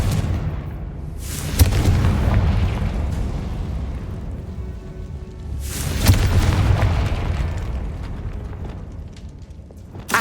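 A Confringo explosion spell fired in Hogwarts Legacy, heard as two loud, close booming blasts a few seconds apart, each swelling then rumbling away over steady game ambience, with no speech.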